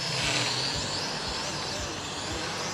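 A DEERC D10 foldable drone flies outdoors near a pond, its steady whirring propeller buzz filling the scene with faint wind rumble and no talk over it.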